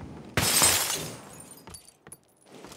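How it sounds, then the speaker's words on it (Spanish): A glass window shatters in the video game PUBG, a loud close crash of breaking glass followed by fading tinkles and a few small clicks, with no speech. "Por romper un vidrio"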